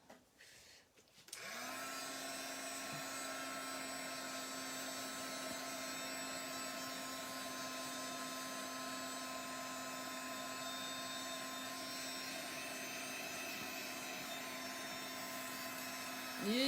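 A heat tool whirs steadily and evenly for the full stretch while it dries a mixed media Christmas card, starting after a brief moment of quiet.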